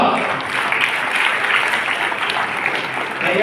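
Sustained crowd applause at a school graduation ceremony, a dense, even wash of many hands clapping at steady loudness for the whole stretch.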